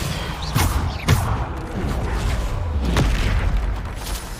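Bombarda spell blasts in the video game Hogwarts Legacy give several deep, booming explosions spaced a second or two apart over a rumbling background.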